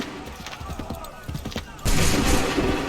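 A musket volley from the Assassin's Creed 3 game, first scattered crackling shots under shouted orders, then a sudden heavy roar of massed fire that stays loud to the end.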